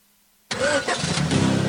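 A car engine cranks and catches after half a second of near silence, then settles into a loud, steady running rumble with rising intensity, heard alone without voices.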